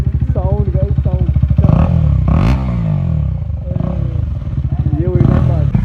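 Loud, open exhaust of a KTM Duke 250 motorcycle revving in sharp bursts up close, with throttle blips rising and falling over a rough idle and voices talking nearby.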